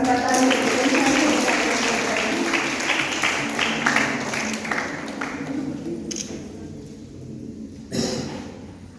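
An audience at a college cultural competition claps in a dense burst of applause that gradually thins out, with a voice speaking over it and a final short flurry of claps near the end.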